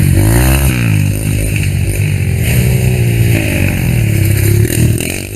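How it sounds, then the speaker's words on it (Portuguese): Motorcycle engines roar loudly and continuously through a forest trail, revving and rising in pitch with strong harmonic drone, close and steady with no voices. "Quando ouvem o ronco das motos no meio da floresta"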